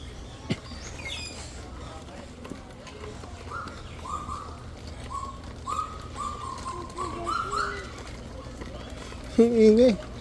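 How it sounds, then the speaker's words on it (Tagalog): Birds calling at a San Diego safari park, a series of sharp cooing or squawking calls that rise and grow louder toward the end, heard from moderately close over steady crowd and background talk. "Ang ingay. Ibon pala."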